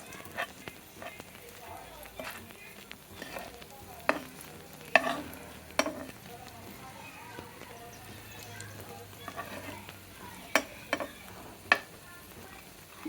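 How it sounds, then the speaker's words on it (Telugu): Chicken keema seekh kebabs frying in a pan, a soft continuous sizzle broken by sharp clacks and scrapes as the skewers are turned and stirred, with a voice speaking over it. "అన్ని వైపులు దూరంగా వేయించుకోవాలండి"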